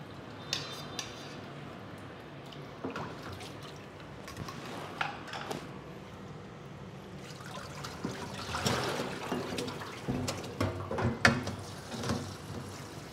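Water trickles and splashes as a blanched pork leg is rinsed, with clinking of pots and utensils and busier sloshing toward the end, steady and fairly close.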